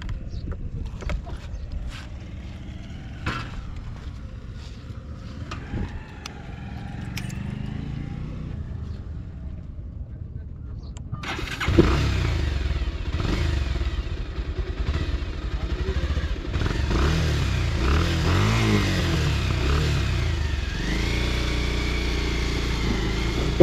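Modified 2017 Pulsar motorcycle fitted with a quieter exhaust, first some clicks and mechanical handling, then the engine starts about halfway through and idles with smooth, steady revving, loud and close.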